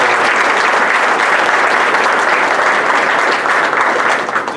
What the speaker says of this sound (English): Maybe a round of applause for the kitchen crew this morning